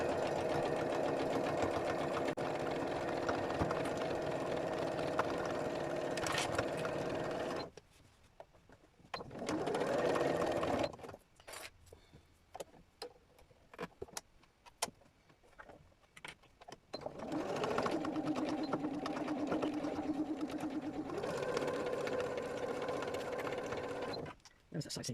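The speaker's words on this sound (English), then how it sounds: "So what I'm doing is turning and just continuing stitching." Sewing machine running in long steady bursts while stitching felt fabric, pausing between runs with soft handling clicks and rustles, close and moderately loud, with a person speaking in the gaps.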